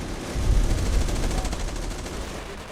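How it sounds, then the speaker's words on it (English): Defensive artillery bombardment in the Company of Heroes Blitzkrieg mod: a heavy close blast with rumbling low-end impacts and rolling explosive rattle that swells, then gradually tails off. "yeah, defensive bombardment."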